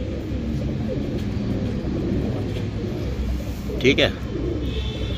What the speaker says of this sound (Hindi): ये तीनों नर बोल रहे हैं ये रहे।